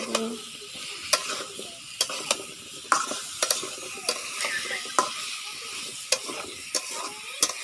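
Cut radish and potatoes being stirred into a pan of cooking puti fish, a steady close sizzle punctuated by regular scraping and clinking strokes.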